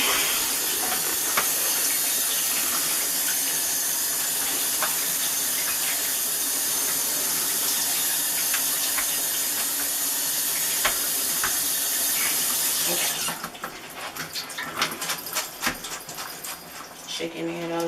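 Cold tap water runs hard and steady into a sink over cooked spaghetti, a loud continuous hiss that shifts and becomes choppier near the end as the stream is moved.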